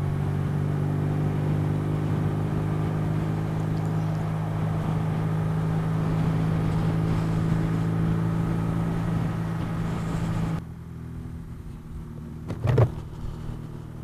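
BMW R nineT (R1200 Nine-T) motorcycle engine and exhaust while riding on a hot day, a steady loud droning hum under wind noise for about ten seconds, then suddenly cutting to quieter road noise with a brief thump.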